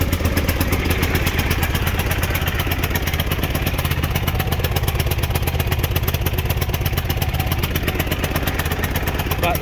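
A small pull-cord engine that blows smoke runs roughly nearby, a continuous loud, uneven chugging clatter that never lets up.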